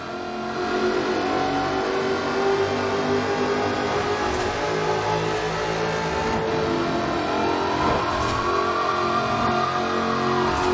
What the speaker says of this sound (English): Powered by a 5-litre V8 supercharged engine, with a fully aluminium body, it's blisteringly fast